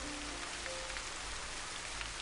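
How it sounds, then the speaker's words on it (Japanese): Heavy rain, used as a sound effect in a Japanese dramatized horror reading, hisses as a dense, even downpour on a surface, steady and close throughout with no speech. "雨は見る間に強く降り出したので"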